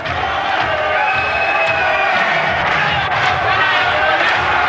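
A home crowd in Finland roars and cheers steadily for a strongman competitor at the 1996 Europe's Strongest Man contest, a dense, continuous wall of cheering heard throughout with commentary over it.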